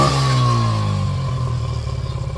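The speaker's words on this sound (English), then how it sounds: "Let's see if it revs good though." A Yamaha 80cc four-wheeler whose throttle hangs revs up, holds a high idle and then slowly settles back down, a close mid-pitched engine drone ending in a faster uneven putter, heard alone.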